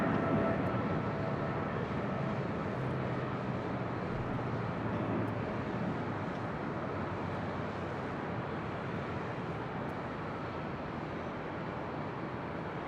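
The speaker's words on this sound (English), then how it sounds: "That was a Korean Air Cargo 777 taking off there on the south side at 25 left." A Korean Air Cargo Boeing 777 takes off from runway 25 left at LAX, heard from a high hotel rooftop as a steady, distant broadband jet roar that holds at a moderate level throughout.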